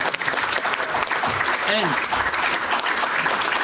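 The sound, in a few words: audience applause at a finance panel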